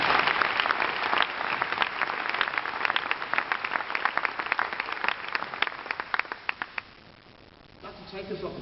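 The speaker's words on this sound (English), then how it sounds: "So give yourself a round of applause" Applause from the audience at a Herbalife speech, strong, dense clapping that thins into scattered claps and fades out near the end, followed by a voice.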